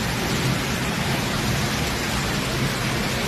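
Heavy rain pouring down in the Sikkim hills during a cyclone storm, a dense, loud, unbroken roar that fills everything, with no pauses or other sounds standing out.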